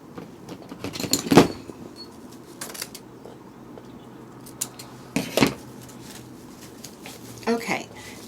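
Scissors snip through ribbon while a hand-tied wreath bow is trimmed, giving a few short, sharp cuts spaced seconds apart against a quiet room.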